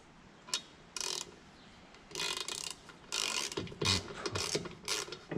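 A hand ratchet works a fitting loose on silage machinery, giving several short bursts of clicking separated by brief pauses, close and fairly quiet, with no voices.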